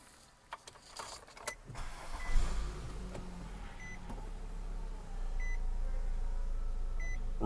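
A 2016 Nissan Rogue S keyless entry system gives about four short, high electronic beeps spaced a second or two apart, while a low steady engine rumble grows underneath.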